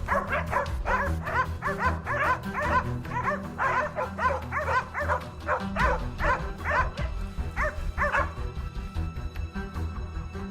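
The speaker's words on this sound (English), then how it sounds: "The hunting dogs, sharp and eager, waited for the command." Hunting dogs in a forest on a wild boar hunt barking and yipping eagerly in a rapid, steady series, several voices overlapping at close to moderate distance, with some whimpering between barks.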